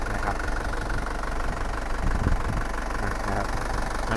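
A 2004 Isuzu D-Max 2.5 pickup engine, hot after a long drive and well maintained, idles steadily with a low, continuous rumble and faint mechanical rattle throughout, with no talking.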